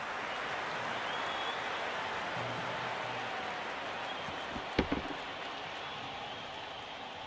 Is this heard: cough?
no